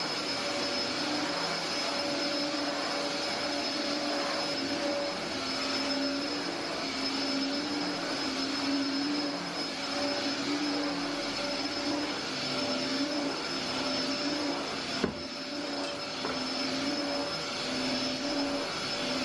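A vacuum cleaner drones steadily and loudly throughout, a constant whooshing roar with a faint whine and one brief knock near the end.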